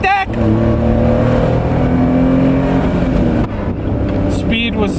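A 1991 Honda Beat's small engine revs hard, climbing in pitch with rising harmonic whine as it pulls into VTEC, loud and close from inside the car, easing off briefly before building again.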